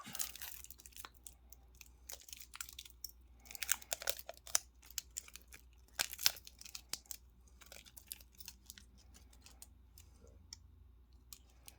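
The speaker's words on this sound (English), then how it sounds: "Bear with me as I rip this plastic off." Plastic wrapping is torn and peeled off a pocket-watch case during an unboxing, giving faint, close crinkling and crackling with sharp irregular tearing bursts and quiet gaps.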